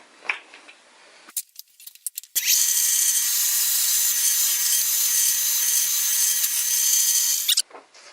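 A power drill bores through a replacement work surface, a few short clicks and bursts leading into a loud, steady high-pitched whine lasting about five seconds before stopping.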